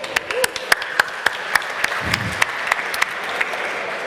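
An audience at a startup pitch challenge event breaks into applause, a dense roomful of clapping with a few sharp claps standing out close by, steady for several seconds.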